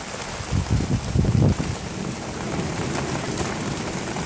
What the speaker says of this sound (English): You guys hear the thunder?